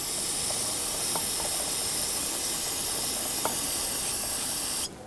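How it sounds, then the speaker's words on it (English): Brake parts cleaner sprays in one continuous loud, close hiss onto a front brake hose fitting of a 2012-2017 Toyota Camry, holding steady for nearly five seconds before cutting off abruptly. "now I'm going to take a little bit of brake parts cleaner"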